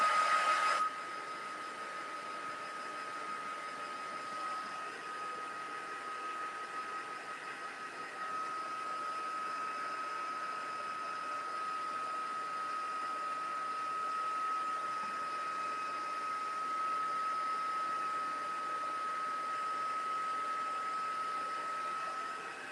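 A heat tool blows continuously over cardmaking work, a steady, fairly quiet whooshing hum with a faint high whine, unchanging for the whole stretch with no talking.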